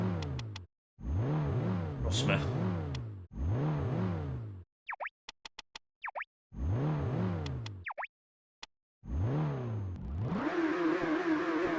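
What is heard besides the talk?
car engine revving in the Ford Racing video game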